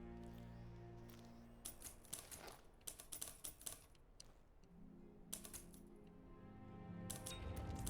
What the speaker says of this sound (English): I can hear somebody typing.